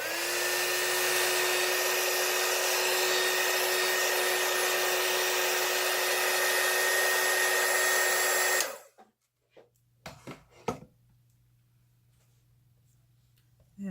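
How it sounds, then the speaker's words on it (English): A heat gun blows hot air over alcohol ink on paper, a loud steady whining hiss held for about eight seconds before cutting off, followed by a few faint clicks and handling noises. "And use my heat gun to dry it because I have no patience."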